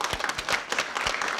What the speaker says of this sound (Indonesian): tepuk tangan yang meriah buat Yanti